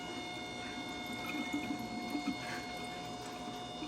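Coolant trickles and gurgles through a newly replaced intercooler pump on a 2003 Cobra, a faint, steady watery flow over a constant electric whine from the pump.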